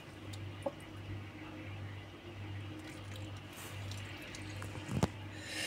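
Water is poured into a glass jar of pickled turnips, making a steady, faint trickle over a low hum, with a brief clink near the end.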